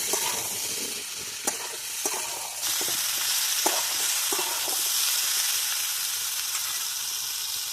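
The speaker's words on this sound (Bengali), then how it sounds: "পেঁয়াজগুলো আমি ভালো করে ভেজে নেবো" Onions fry in oil in a pan alongside already-fried potatoes, a loud, continuous close sizzle broken by occasional soft knocks of a stirring spoon.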